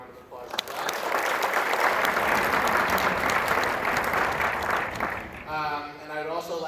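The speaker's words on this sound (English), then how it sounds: "Let's give them a round of applause as well." Applause from a school concert audience swells quickly and holds as a dense, sustained clatter of clapping for several seconds before fading, and a voice begins speaking at the end.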